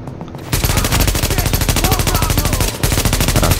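Rapid automatic gunfire from a shooter video game fills the scene, loud, sustained bursts of closely spaced shots with one brief pause near the end.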